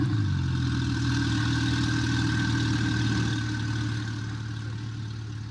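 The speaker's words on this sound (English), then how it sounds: "it's a very loud engine" A loud car engine from a Roblox game drones steadily at idle with a deep, strong hum and buzzy harmonics, fading slightly toward the end, no voices over it.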